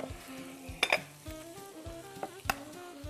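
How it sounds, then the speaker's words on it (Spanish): Mackerel sautéing with softened vegetables in a pan gives a quiet, steady sizzle, broken by a few sharp utensil scrapes and clinks against the pan. "Lo salteamos con las verduras que tenemos ahí salteando, que ya están pochaditas."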